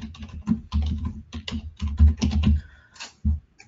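A billing description being typed into a legal aid app on a computer keyboard, with a close, steady run of keystrokes and thumping key presses in quick bursts with short pauses.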